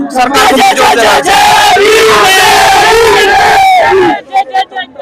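A large crowd at a Bhim Army protest rally at Jantar Mantar shouts and chants together, loud and sustained, with raised voices swelling over one another before breaking off into a few scattered calls.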